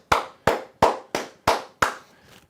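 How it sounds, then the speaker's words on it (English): Six sharp, evenly spaced hand claps from one person, close and loud with a steady rhythm, followed by a softer trailing sound. "Clap it up again."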